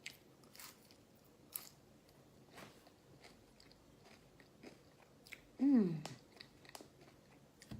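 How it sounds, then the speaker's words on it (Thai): Someone eats food close to the mic, with faint crunchy bites and soft chewing spread through the quiet, and one louder squishy bite near the end. "ทานแล้วจะทานแล้วนะคะ"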